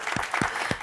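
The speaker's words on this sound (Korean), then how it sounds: "여러분 따뜻한 박수 부탁드리겠습니다." Brief burst of audience applause at a talk concert welcoming a singer, fairly faint and lasting under a second.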